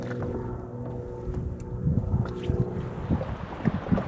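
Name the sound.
wind picking up on a lake, heard from a boat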